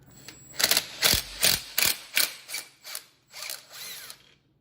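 Socket ratchet removing starter bolts from a Kohler K301 engine off a 1974 John Deere 112, about eight to ten sharp close ratcheting clicks in an uneven rhythm.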